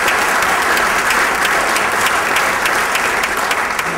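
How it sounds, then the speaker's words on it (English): A large audience at a YMCA tribute speech applauds in a dense, steady roar of clapping that holds throughout. "Let's have a round of applause for that."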